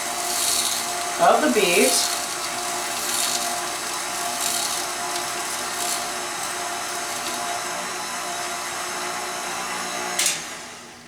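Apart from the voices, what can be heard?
KitchenAid mixer spiralizer attachment peeling a beet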